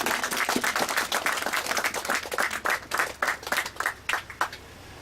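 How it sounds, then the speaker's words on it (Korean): An audience applauds at a memorial ceremony marking the 50th anniversary of Cho Bong-am's death, a sustained burst of many hands clapping that gradually thins into scattered claps toward the end. "그 점 또 한번 박수 한번 해주십시오"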